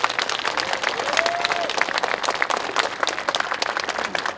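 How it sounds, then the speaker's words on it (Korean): Crowd at a KTX stop commemoration ceremony at Mulgeum Station gives a round of applause, individual claps distinct and rapid within a continuous audience clapping, steady and fairly close for several seconds. "여러분 감사의 격려 박수 한번 부탁드립니다"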